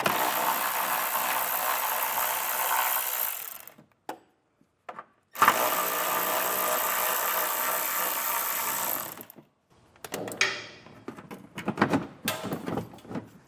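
Screws on the frame rail of a 2020 Subaru Forester are backed out with a power driver using a Phillips or 10mm bit during a trailer hitch install: two long, steady whirring runs separated by short pauses, then clicks and handling noise.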